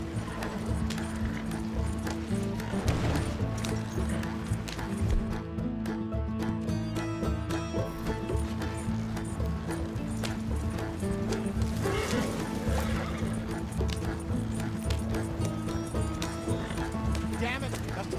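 Horses gallop in the video game Red Dead Redemption 2, their hoofbeats drumming steadily under almost constant speech and a musical background.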